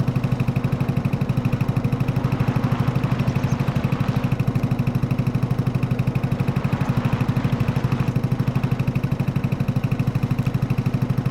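Vehicle engine with a poor muffler in Farming Simulator 22, a loud, steady throbbing drone with a rapid regular pulse that runs unbroken and close throughout.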